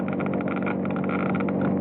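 A car engine running cold in everyday short-hop, stop-and-go driving through traffic, with a steady, close, fairly loud rhythmic mechanical clatter that holds throughout without any voices.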